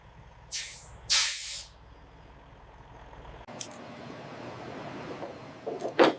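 Two sharp bursts of hissing air as a tank transport vehicle's air brake is set after stopping in a factory yard, with a duller whoosh and scattered clanks following.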